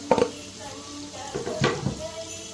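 Chopped onion dropped into a hot cooking pan, with a short clatter and a brief sizzle followed by a couple of scraping stirs, close and fairly quiet, no talking.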